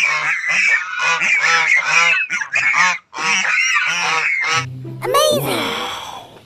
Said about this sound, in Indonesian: ini angsa